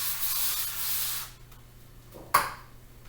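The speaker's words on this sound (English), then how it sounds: "So I'm going to spray this over this sink." A steady hissing spray over a sink runs for about a second, then stops, followed by a short sharp knock and quiet room tone.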